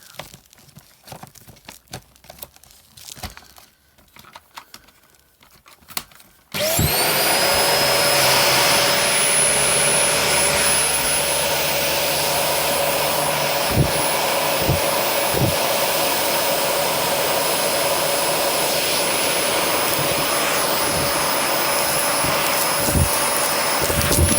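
After a few seconds of quiet handling noises, a Dyson vacuum cleaner starts with a sudden loud whine and keeps running close by as a steady high-pitched roar, with occasional bumps and clicks from the cleaning head.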